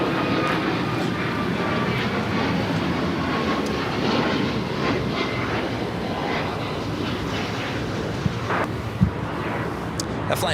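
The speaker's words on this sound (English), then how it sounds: "That flight heading to Chicago O'Hare, United Airlines, flight 2347 is 737 MAX 9." A United Airlines Boeing 737 MAX 9 jet airliner bound for Chicago O'Hare at Los Angeles airport gives a steady, loud broadband engine roar that holds across the whole stretch, with a couple of brief knocks near the end.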